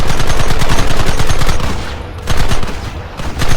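Gunfire in the Red Dead Redemption video game, a dense, loud, continuous barrage of rapid shots like machine-gun fire, dipping briefly before resuming at full intensity.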